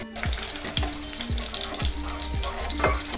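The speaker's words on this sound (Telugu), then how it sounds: "నెత్తి బీరకాయ ముక్కలు వేసుకుందామండి" Sponge gourd pieces frying in oil in a pan: constant close sizzle with a regular series of scraping stirs, about one every half second, and no voices.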